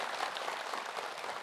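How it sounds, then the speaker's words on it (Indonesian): Steady applause from a studio audience at an Indonesian Islamic religious talk show, dense clapping that holds at an even level for the full length, with no pauses or voices standing out. "Subhanallah, tepuk tangan deh"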